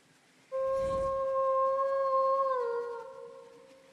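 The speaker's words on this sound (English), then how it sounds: "Also, I'm a wolf, so just howling is fun." A wolf howls in the video game Lost Ember: one long, steady tonal cry, loud and close, that holds level for about two seconds, then bends downward and fades out alone.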